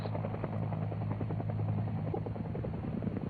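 A UH-1 helicopter on a 1970 Air Force resupply mission gives off a steady, loud rotor and turbine drone with a low throbbing thump, continuous and close with no voices.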